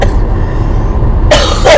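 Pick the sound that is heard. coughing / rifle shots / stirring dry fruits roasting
coughing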